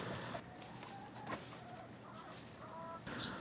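Chickens cluck softly in short, scattered bursts, fairly quiet and close, with a few sharper calls among them.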